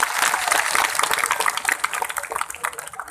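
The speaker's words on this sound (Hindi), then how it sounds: "उन कार्यकर्ताओं के लिए जोरदार तालियां बजाएं।" A large crowd at a gathering breaks into dense applause, a continuous wash of clapping with individual claps more audible toward the end.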